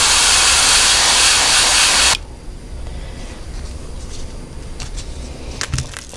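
Paint sprayed onto a fishing lure in a Missouri golden shiner pattern, a loud airbrush hiss lasting about two seconds that cuts off abruptly, followed by quiet with faint clicks and handling noises.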